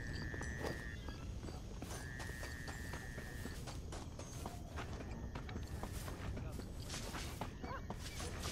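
Horse in the Red Dead Redemption video game clip-clopping steadily at a fast pace with brief whinnies, mixed with game sounds and a person talking.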